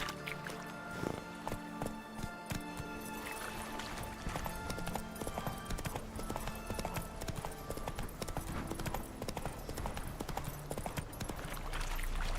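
Roach the horse's hooves clip-clop in a steady trotting rhythm through The Witcher 3: Wild Hunt, carried under a busy bed of game music and ambience.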